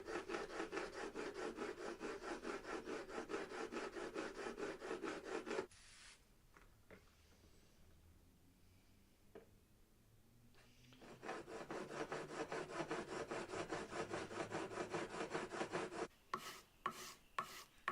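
A vintage Draper No.5 jack plane blade is rubbed back and forth on sharpening stones with slurry, making fast rhythmic wet scraping strokes. The strokes pause midway and then start again, close and clear, with no talking.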